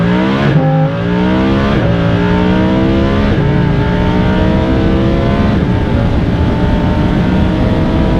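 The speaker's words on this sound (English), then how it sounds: "Oh, it has an excellent crackly burble." A Lamborghini Huracan sports car exhaust burbles and crackles through repeated rising revs, loud and close, each climb in pitch cut short before the next, with no voices.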